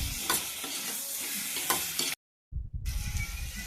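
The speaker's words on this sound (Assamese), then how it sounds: "মাংসখিনি ধুনীয়াকৈ ভাজি হোৱাৰ পিছত অকণমানকৈ পানী এড কৰিম" Local chicken fries with a paste of ginger, garlic, onion and tomato in a pan, sizzling and being stirred with scraping strokes; a short silent gap breaks the hiss before it resumes.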